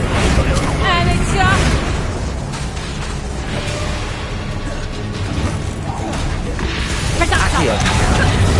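The Confringo explosive spell in Hogwarts Legacy: loud, continuous combat with bursting blasts and crashing impacts, mixed with spoken voices.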